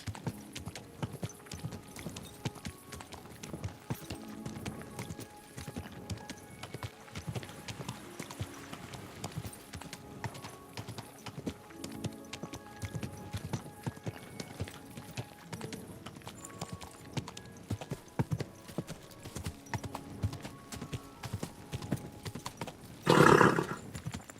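Horse hooves clip-clop steadily at a walk in the medieval video game Kingdom Come: Deliverance 2, moderately near over ambient game sound, ending with a brief louder burst.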